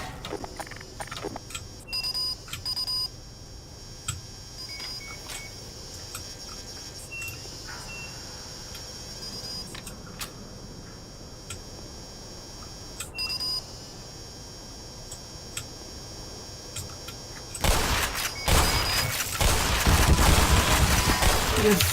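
Automated turrets in the video game Black Mesa give off scattered electronic beeps and sharp clicks over a low hum, then open fire in a loud, sustained burst near the end.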